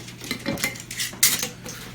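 A jar top clinks against a glass jar of tincture as it is fitted on, a couple of quick close metallic taps and scrapes with one sharper knock, no voices.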